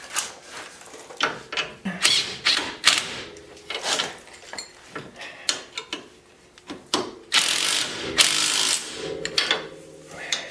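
A ratchet tightening bolts on the rear bushings of a 2009 Polaris Ranger, with irregular bursts of clicking and metallic scraping and clanks, close and fairly loud, with no speech.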